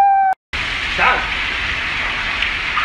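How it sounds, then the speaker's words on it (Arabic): Heavy rain pours down outdoors as a steady, dense hiss after a brief tone and a moment of silence, with a faint voice underneath. "المطر والله مطر قوي مرة."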